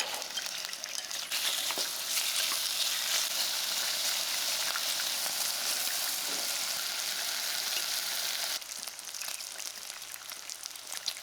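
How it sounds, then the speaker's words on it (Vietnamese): Pork belly stir-fries in a hot pan to render its fat, giving a loud, dense, steady sizzle close up for several seconds that thins abruptly near the end into lighter crackling. "Thịt ba rọi mình sẽ đem đi xào cho thịt ra mỡ và săn lại."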